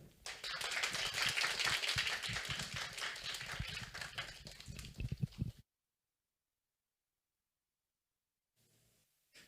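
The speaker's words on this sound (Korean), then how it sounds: "다시 한번 서은국 교수님께 큰 박수 부탁드리겠습니다" Audience applause closing a lecture on happiness by Professor Seo Eun-guk: many hands clapping in a dense, lively patter for several seconds, then cutting off abruptly into silence, with a faint noise near the end.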